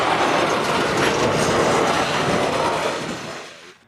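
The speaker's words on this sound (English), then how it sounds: "Next train on the list was Huron and Eastern 740, which was just heading south from Bay City after working a handful of industries" Huron and Eastern freight 740, led by a GP38-2 locomotive at Genesee Yard near Saginaw, rumbles past up close with loud rolling wagons and rail clatter, then fades quickly at the end.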